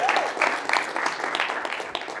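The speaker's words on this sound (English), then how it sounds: "now give me a round of applause" Audience applause at a talk on a tech campus breaks out briefly: a short burst of clapping from a small crowd with some cheering mixed in, fairly close and lively.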